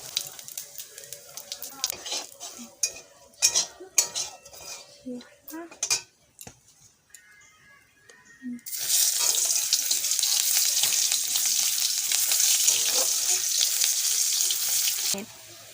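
Cumin seeds dropped into hot oil in a home kitchen, starting with clattering pots and utensil knocks, then a loud steady sizzle breaks out and continues evenly to the end.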